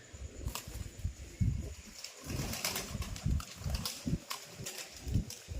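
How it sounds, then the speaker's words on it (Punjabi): About a hundred pigeons coo softly nearby while wings flap in brief bursts, over a faint, busy outdoor background. "ਕਬੂਤਰ ਵੀ ਆਪਣੇ 100 ਦੇ ਕਰੀਬ ਹੋ ਗਏ ਆ"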